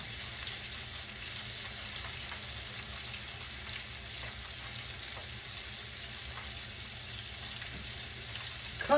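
Mushrooms cut into small nuggets frying in hot grease, a steady close sizzle with faint crackles running unbroken throughout.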